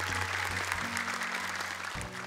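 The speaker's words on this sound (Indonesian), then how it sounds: "Boleh tepuk tangan sekali lagi untuk mereka." Dense, steady applause from a crowd, continuous throughout, with a faint low musical tone underneath.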